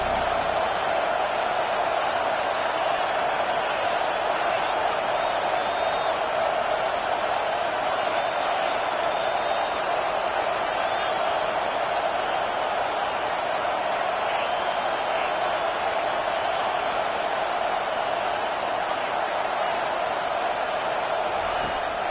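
Steady stadium crowd roar from a Clemson versus NC State college football video game swelling on third down, a dense continuous wash of cheering held at an even loud level throughout, with commentary voices mixed in.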